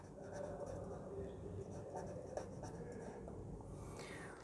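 Faint scratching of writing on a board during an economics lecture, quiet and continuous against a soft room background.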